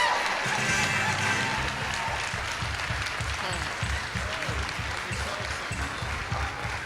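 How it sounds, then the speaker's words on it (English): An audience applauds contestants at the Ms. Senior DC Pageant, a steady, dense round of clapping from a crowd that fills the hall and continues throughout with no pause. "Let's have a round of applause"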